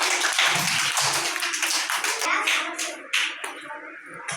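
Children in a classroom counting activity clap their hands together, a dense run of quick, close claps that continues across the whole stretch with a faint voice underneath.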